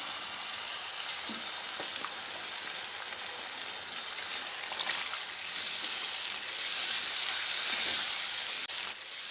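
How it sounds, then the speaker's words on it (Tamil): Constant sizzling and hissing from a hot pan after water is poured over peas, swelling slightly louder toward the end, with no voices. "எடுத்து வச்சுருக்க தண்ணியை ஊற்றுவோம்"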